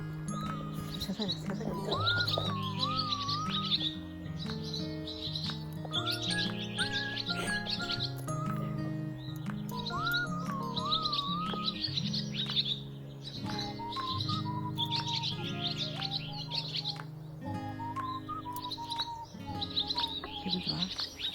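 Birds chirp and tweet continuously on a spring day, with bright repeated calls running the whole time over a steady, low tonal background.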